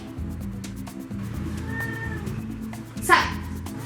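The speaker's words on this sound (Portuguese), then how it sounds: "Ou para de miar, tu vai sair." A cat lets out one loud meow near the end, rising over a steady low background murmur that runs through the rest of the time.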